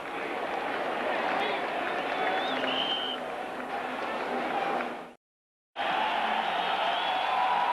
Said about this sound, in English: that roar of the crowd comes courtesy of Walter Payton